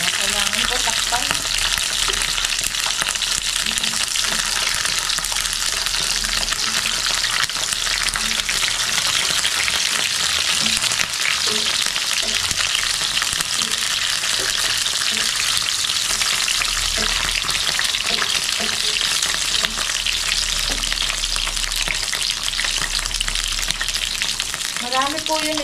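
Food cooking in a covered pan gives a loud, continuous sizzle and hiss, steady throughout with occasional bubbling crackle, no voices.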